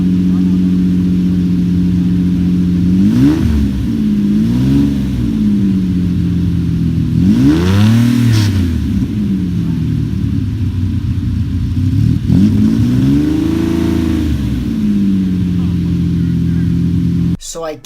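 At an outdoor car show, a Lamborghini Diablo SV engine idles with a steady rumble, then is blipped several times, each rev climbing sharply and falling back to idle, loud and close.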